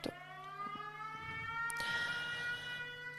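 An air raid siren wails in a sustained, steady tone that sounds distant and moderately faint, with no talking over it.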